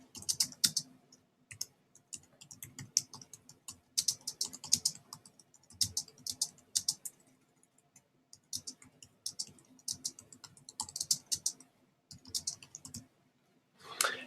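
Someone types on a computer keyboard, close and fairly quiet, with quick irregular key clicks in bursts broken by short pauses, and no voices.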